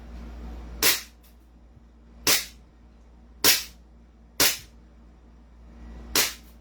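A Glock 17 pistol fires five sharp, loud shots, spaced roughly a second apart, each cracking and then decaying quickly over a low hum.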